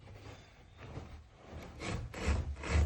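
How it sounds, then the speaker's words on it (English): Hook-bladed trimming knife slicing wool carpet tight along a wall at the skirting board, a steady scraping, rasping cut that grows louder and rougher toward the end, close by with no talk. "we're just going to use our hook trimming tool and we're just going to trim along"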